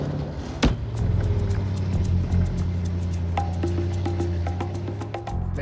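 Engine of a 1938-era factory-built woodie car running steadily at idle, a low rumbling drone throughout with a brief louder knock near the start, close and without talk.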